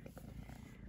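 A hungry house cat purrs close by, a soft continuous rumbling hum that is faint but steady through the whole moment.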